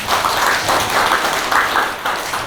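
An audience at a Korean literary colloquium on poetry criticism claps for the speakers. Loud, fairly close clapping comes in short uneven waves across the clip, with no talking.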